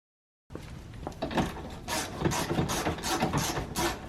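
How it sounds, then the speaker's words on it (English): Bolts being started and tightened on the window regulator of a 2005-2011 Cadillac STS: a run of ratcheting clicks and metallic scraping up close, steady and continuous after a brief silence, with no talking. "we'll start these bolts and then we'll tighten them all in place"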